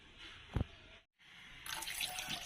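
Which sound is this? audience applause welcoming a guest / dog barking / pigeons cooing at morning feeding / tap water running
tap water running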